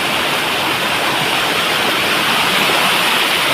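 A small waterfall pours steadily, a dense, loud, unbroken rush of falling water that stays constant throughout with no voices.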